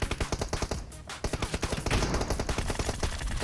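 Rapid bursts of automatic gunfire in PUBG Mobile crackle loudly and close, sustained rattling shots with a brief pause, sounding like game combat.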